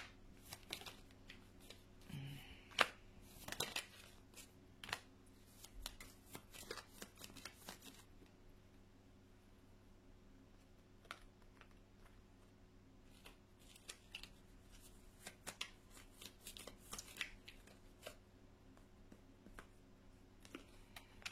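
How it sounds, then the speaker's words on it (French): Tarot cards are shuffled and drawn by hand, with quick crisp riffles and flicks in clustered bursts separated by quieter pauses, close up and soft, with no one speaking. "j'ai oublié de tirer les autres cartes en complément"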